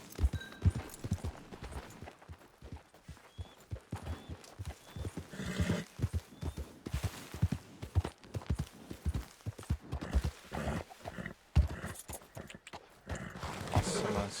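Horse hooves clip-clop steadily across the ground in Red Dead Redemption 2, with occasional whinnies, close and moderately loud against the game's ambient background throughout.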